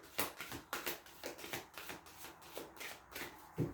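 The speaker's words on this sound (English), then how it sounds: "They want me to shuffle." Tarot cards are shuffled by hand in a quiet room, with soft, rhythmic riffling bursts repeating about every half second, close and fairly faint.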